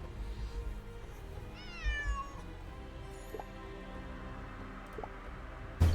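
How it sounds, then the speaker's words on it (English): A single cat meows in the video game Nancy Drew: Lights, Camera, Curses!, a short wavering cry over quiet background ambience, followed by a few faint drips and a sharp thump at the end. "that cat again"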